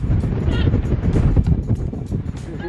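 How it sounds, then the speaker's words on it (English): Gusty wind buffets the microphone with a low, uneven rumble, and muffled voices sit faintly underneath. "it's a bit windy out right now"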